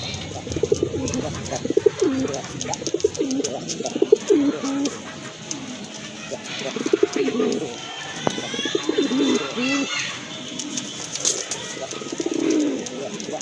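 Large desi Raj golla pigeons with feathered feet cooing repeatedly at close range, low rolling coos in bursts over a noisy background, with brief speech partway through.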